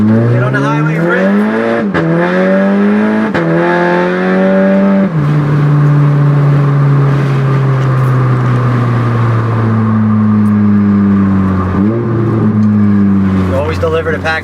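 A turbocharged car accelerates hard onto the highway, the engine climbing through several rising gear pulls with shifts in between, loud and close from inside the car.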